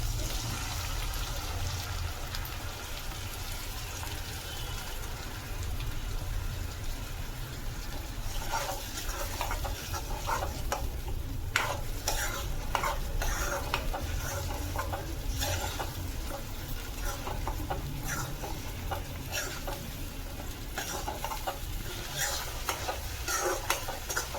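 Ground masala paste stirred into fried onions for a spicy crab masala, giving a steady close sizzle with scraping stir strokes and brief crackles throughout.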